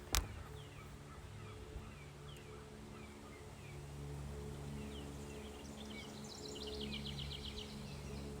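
Birds chirp and call outdoors in short scattered notes, faint and distant over a steady low hum, with a brief knock at the start and a denser run of calls later on.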